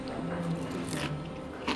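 A bite into fried okra in a light, heavily salted crunchy batter with potato sticks stuffed inside cucumber, served at a Pakistani fine-dining tasting table; soft close crunching and squishing at moderate level.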